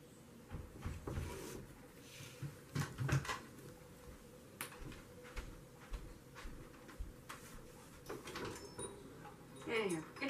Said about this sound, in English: Can you hear that banging at the door?